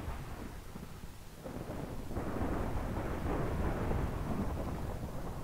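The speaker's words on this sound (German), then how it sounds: "Noch nie ist Gewitter so krass gesehen oder mitgekriegt." A Minecraft thunderstorm rumbles as a deep, swelling roll of thunder over a steady rain wash, building after a couple of seconds and lingering loud to the end, with no talk.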